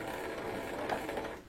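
Sewing machine stitching a few points forward and back while sewing a ruffled dress, a brief close mechanical whir with fast even rattling, steady and alone.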